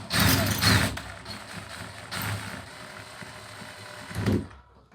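A cartridge puller is screwed into a Moen 1225 faucet cartridge, giving close, rough scraping and creaking metal turns in a few uneven bursts. The sounds are fairly quiet and come without any talk.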